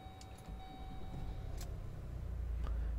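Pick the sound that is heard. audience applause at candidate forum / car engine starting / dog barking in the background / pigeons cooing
car engine starting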